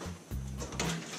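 Ridgid RP 200 Pro Press crimping a heating pipe fitting, a short mechanical whir and clunk of the press cycle heard close, with a second mechanical surge near the end.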